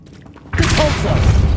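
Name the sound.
Confringo blast spell in the video game Hogwarts Legacy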